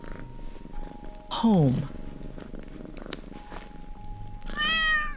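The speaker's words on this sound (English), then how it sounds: "the kitten, now full-bellied and clean, no longer alone, purring happily" A rescued kitten, fed and clean, purring softly under a narrating voice, with a couple of short meows rising above it, close and gentle.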